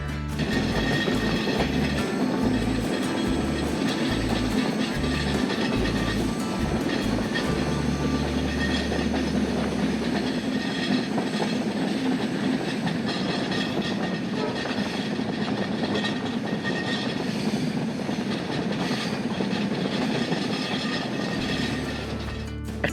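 The Dhumketu Express rolls along the Dhaka–Rajshahi line with a loud, continuous rumble and a rhythmic clickety-clack of wheels over rail joints in the first half, no one talking.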